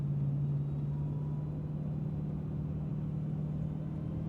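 A Dodge Demon 170 drives in the rain while downshifting, giving a steady low engine drone and rumble from inside the car with a constant hum and no voices.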